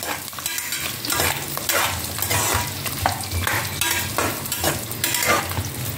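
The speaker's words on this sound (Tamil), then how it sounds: "இந்த காய்கறிலாம் வதங்கணும்." Vegetables and whole spices sauté in a pan for vegetable biryani, with a constant close sizzle under rhythmic, repeated spatula scrapes and stirring strokes about every half second.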